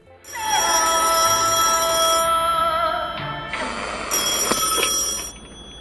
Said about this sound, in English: he receives a surprising phone call